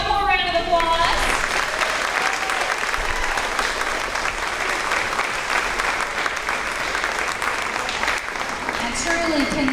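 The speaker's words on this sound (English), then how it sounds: "Let's give them one more round of applause." A crowd at a fifth grade promotion ceremony gives sustained applause, a dense, steady patter of clapping lasting around nine seconds, with a voice heard briefly at the start and end.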